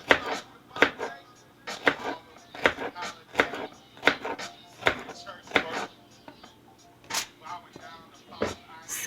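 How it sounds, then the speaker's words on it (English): Knife strikes a cutting board in uneven bursts of sharp taps while scallions are chopped, the rhythm stopping and restarting between cuts, with a voice talking over parts of it. "Cut your scallions up."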